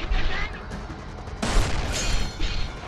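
Gunshots fired at a chain in the video game Resident Evil 5: a few sharp, loud blasts in quick succession over game noise, with no voice heard.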